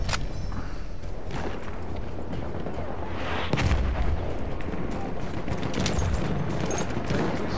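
Dense, continuous video-game gunfire, with rapid automatic shots and heavy artillery-like booms layered into a loud, unbroken barrage throughout.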